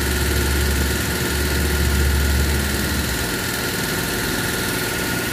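A car engine idles close by with a steady low rumble and dense mechanical vibration, continuous and loud throughout, with no talk over it.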